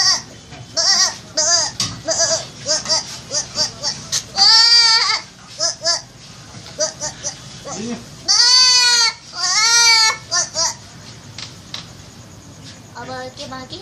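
A girl imitates a goat bleating, producing several wavering, quavering bleats of rising and falling pitch, loud and close, interspersed with shorter vocal sounds and brief pauses.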